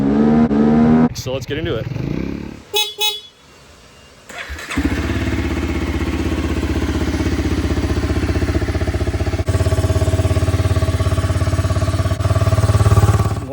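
A Honda ATC 200X three-wheeler engine runs steadily and loudly close by after a short burst of speech, with an earlier engine rev and a brief lull before it settles into a sustained throaty drone.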